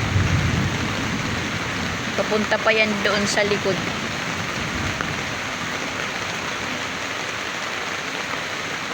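Heavy downpour and flowing floodwater in a Philippine neighborhood during a sudden thunderstorm, a dense steady hiss of rain throughout with brief low rumbles possible, while a person speaks over it near the start.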